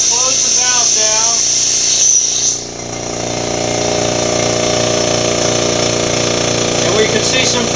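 A Makita MAC700 air compressor runs through its break-in, holding a steady, loud mechanical drone with a buzzing motor hum throughout, while a voice talks briefly near the start.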